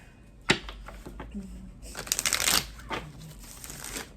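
Tarot cards are shuffled by hand in a few bursts, a sharp riffle and then a longer flurry of papery flicks, close and fairly quiet.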